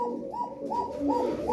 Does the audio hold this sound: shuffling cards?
no